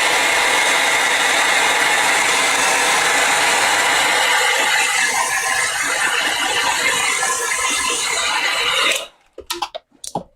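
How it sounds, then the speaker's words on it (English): Heat gun blowing over freshly stamped paper, a loud steady roaring whoosh held for about nine seconds before cutting off into a few bumps and clunks. "with my heat gun."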